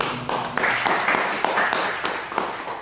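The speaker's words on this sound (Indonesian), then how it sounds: "Ya, tepuk tangan." Audience clapping at a business presentation in Pekanbaru, a steady patter of many hands filling the room at moderate level, with no talk over it.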